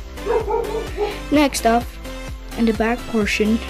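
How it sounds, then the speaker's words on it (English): Several dogs bark and yip in short bursts close by, some calls rising into whiny yelps, mixed in under someone talking steadily indoors. "sorry for the dogs barking."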